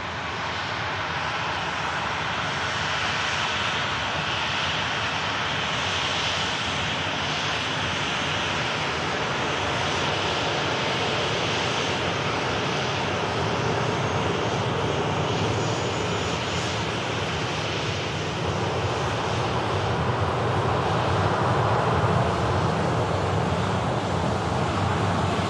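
Jet engines on an Airbus A380 roar steadily as the airliner starts to taxi at an airport, a broad, constant rumble heard from a distance that swells slightly near the end.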